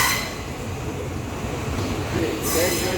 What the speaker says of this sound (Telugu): 7వ నెంబర్ ప్లాట్ఫామ్ మీదకి వెళ్తుంది మన ట్రైను